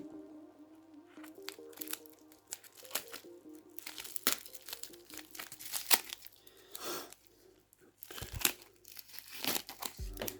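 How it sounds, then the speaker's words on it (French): Trading card packaging is cut and torn open nearby, with bursts of crinkling plastic and wrapper rustling, sharp tearing and crunching coming in irregular clusters, faint to moderate, with no talk. "On va essayer de couper ça sans complètement bousiller les cartes."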